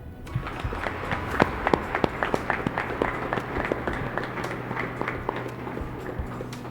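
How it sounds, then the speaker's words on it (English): Audience at a Davao Region event applauding President Marcos, scattered sharp claps building into sustained clapping from a crowd, with distinct nearby hand claps standing out over the wash. "please welcome with a round of applause the President of the Republic of the Philippines, Ferdinand Romualdez Marcos Jr."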